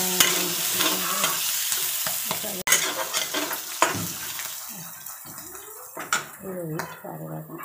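Ginger garlic paste crackles and sizzles in hot oil in a pan, with steady frying hiss, stirring and utensil clinks against the pot, close by, while a voice talks intermittently over it.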